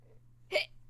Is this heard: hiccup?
yes